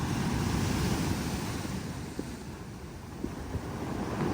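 Ocean surf rolls onto a Baja California beach near Ensenada, a steady broad wash of breaking waves with wind buffeting the microphone, close and continuous.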